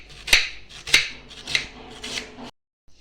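A knife chops onion finely on a board, with four or five sharp, distinct cuts spaced about half a second apart and quieter scraping between them, close up, then silence.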